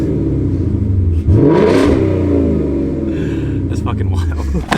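A Ford Mustang GT with a catback exhaust revs up loudly, a deep rumbling surge rising and falling nearby, with people talking and reacting over the engine.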